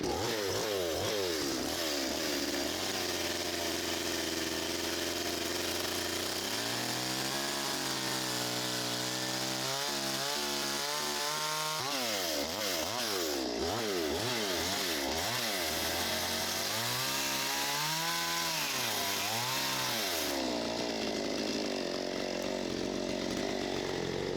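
A motorized saw cuts through wood fence pickets, its pitch rising and falling in waves as the blade bites and eases, continuous and fairly loud.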